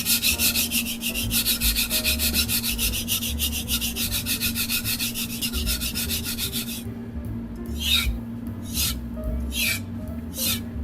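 Knife blade being deburred on a sharpening surface, rapid rhythmic rubbing strokes close up, then slower separate strokes with pauses, no talk.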